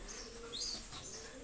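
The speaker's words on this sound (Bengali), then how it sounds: "ওমান ব্লাড লাইনের কবুতর, পিওর ব্লাড লাইনের কবুতর" Oman bloodline pigeons rustle, with a short burst of wing flapping in the middle and a faint low cooing underneath, quiet and close in a calm space.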